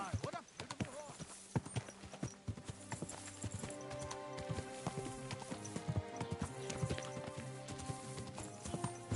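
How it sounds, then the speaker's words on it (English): Horse hooves clip-clopping in the video game Kingdom Come: Deliverance 2, a steady galloping rhythm with occasional whinnies, heard alongside game music and a speaking voice. "My, what a beautiful horse."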